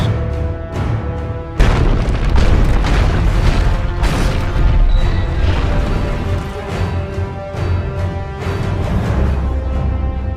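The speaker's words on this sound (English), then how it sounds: "this spectacular kind of crash from this elf ship which charges into it" Film crash effect of an elf ship charging through stone columns in a throne hall, with a sudden booming impact followed by continuous heavy rumbling, crunching debris and repeated smashes, loud throughout.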